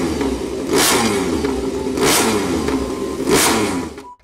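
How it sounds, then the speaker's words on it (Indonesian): A toy MotoGP motorcycle gives three loud, whirring rev bursts in an even rhythm, each swelling then fading, close up with no talk. "Di sini ada MotoGP."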